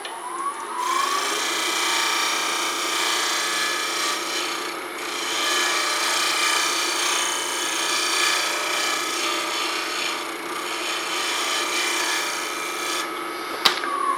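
A wooden pen blank spins on a wood lathe while being ground down to final shape, making a continuous, even rasping and rubbing noise that holds steady and close for about fourteen seconds, ending with a sharp tap.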